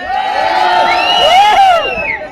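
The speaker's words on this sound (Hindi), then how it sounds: "जॉनसार वाले थोड़ा ताली बजाओ यार" Crowd at a kabaddi league final match cheering and whooping, a dense, loud wash of shouting voices with rising calls throughout.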